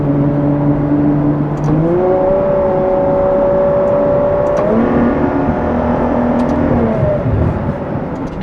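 A Ferrari 812 V12 with a seven-speed dual-clutch gearbox holds a steady howling drone, stepping cleanly up and down in pitch with quick, crisp gear changes. The engine is loud and close, and no one speaks.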